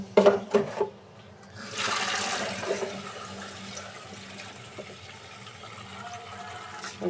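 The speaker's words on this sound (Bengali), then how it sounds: "এখন অল্প পানি দিয়ে সেদ্ধ বসাই দিব।" Water is poured into a pot of washed lentils set to boil, a loud gushing splash that starts partway through and then settles into a steadier, softer running pour, with no talking.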